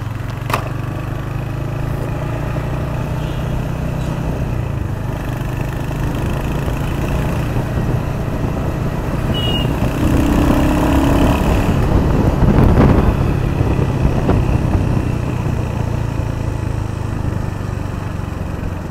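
Royal Enfield Hunter 350 motorcycle idling with a slightly cold engine after a week unused: a steady, close, even low engine thrum that continues throughout with no talk over it.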